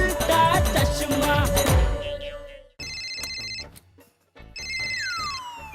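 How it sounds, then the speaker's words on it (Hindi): A mobile phone rings in a home in a family sitcom, bright electronic ringtone bursts repeating with short pauses between them. "फोन की घंटी बज रही है।"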